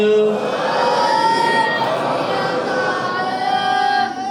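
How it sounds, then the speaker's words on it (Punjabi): A crowd of students and families at a Sikh gurdwara event roars back a jaikara call, a dense, loud wash of many voices shouting together that holds steady before tapering off. "ਇਹਨਾਂ ਵਾਸਤੇ ਇੱਕ ਜਕਾਰਾ ਸਪੈਸ਼ਲ ਹੈ"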